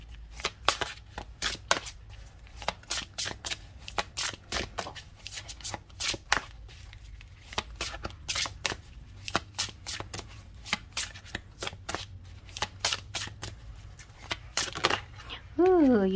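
A silver-edged Fairy Tarot deck is shuffled over and over, producing quick, crisp card flicks in irregular bursts that are close and clear, with a brief voice near the end.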